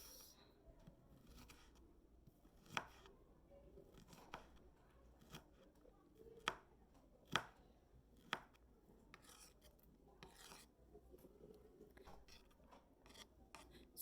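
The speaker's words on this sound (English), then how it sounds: "So here are our diced onions." A knife dices onions on a cutting board in quiet, irregular chopping taps and scrapes with a few sharper knocks, all close and faint.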